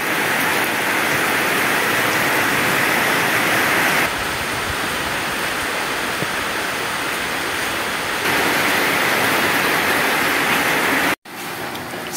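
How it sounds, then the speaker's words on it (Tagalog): Steady rain pours down at a mountain view deck in Infanta during a peak ride: a loud, dense, continuous hiss with no voices, dipping briefly in level and cutting out for a moment near the end. "Hindi ako makalabas, umuulan."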